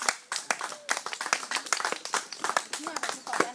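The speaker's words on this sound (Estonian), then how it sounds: "Aga teeme veel ühe korraliku aplausi" An audience at a church camp gathering claps in a sustained round of applause, with sharp, uneven handclaps from many people, fairly close and mixed with voices.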